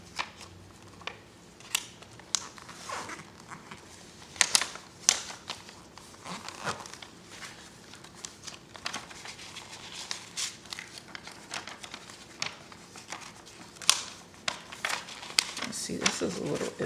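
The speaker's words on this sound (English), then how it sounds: "now I'm going to go back through and kind of fold the pages that are supposed to be folded" Pages of a handmade junk journal are folded and handled in a series of soft crinkles, rustles and paper taps, with someone talking quietly between them.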